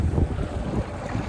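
A fishing boat runs out across open lake water, its steady low engine drone and hull rumble mixed with buffeting wind noise on the microphone, loud and continuous with no talk.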